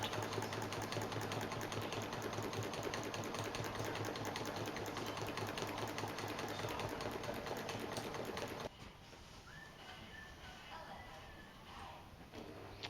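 Sewing machine stitching quilting grid lines for a basket weave background, a loud continuous mechanical whir for about nine seconds that then cuts off, leaving a quieter room with faint sounds.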